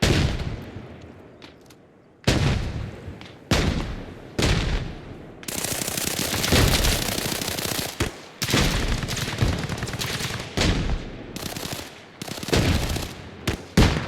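Sustained gunfire during a 12 vs 12 airsoft-style team match on the Zarichne map, with repeated bursts and rapid volleys, loud and close, broken by brief pauses between strings of shots.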